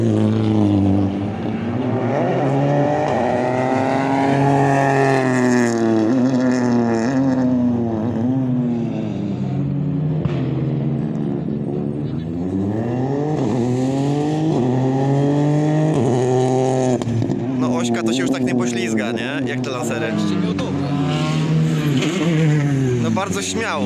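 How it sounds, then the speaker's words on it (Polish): A rally car at a rally show in Modlin, 2021, its engine note sweeping up and down in pitch through repeated revs and gear changes, steady and fairly loud, with voices over it. "Zaskakująco cichy jest ten samochód."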